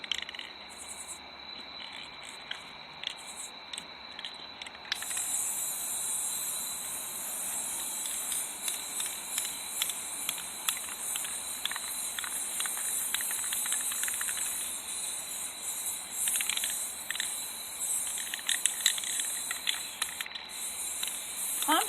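Spray paint hisses onto pumpkins in a series of long, close bursts, with brief gaps and rattling between sprays, over a quiet background.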